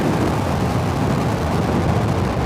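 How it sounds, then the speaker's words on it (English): A SpaceX Falcon 9 rocket lifts off from Space Launch Complex 4E on the NROL-146 mission, its engines producing a dense, continuous, deep crackling roar that stays loud and unbroken throughout. "And liftoff Falcon 9."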